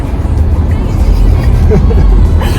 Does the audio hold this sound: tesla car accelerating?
yes